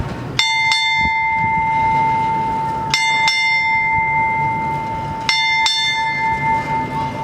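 A ship's bell rings loud and close in three pairs of strikes, six bells in all, at a naval change of command ceremony, each ringing out and sustaining before the next pair.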